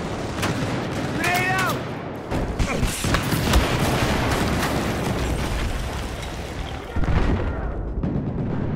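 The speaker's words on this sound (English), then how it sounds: "Grenade" Grenade blasts and heavy gunfire in a Battlefield 4 conquest match on Zavod 311, with loud booms and dense overlapping shots continuing throughout, while players talk over the noise.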